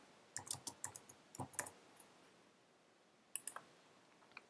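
Mouse clicks at a computer while text is edited in the Pinegrow web editor: faint, close, quick runs of light clicks, a short cluster, a pause, then a few more clicks.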